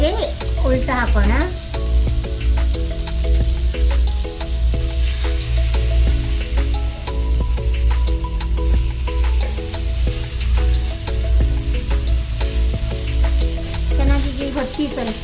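Fish fries in a pan with a loud, continuous close sizzle, crackling steadily for about fifteen seconds over a low rumble, with occasional scraping touches and no talking.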